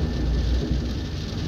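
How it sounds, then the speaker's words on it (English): Hail and rain drumming steadily on an aircraft in the X-Plane 10 flight simulator, a dense, continuous patter with a low rumble underneath, loud and unbroken throughout. "Now it's hailing on us."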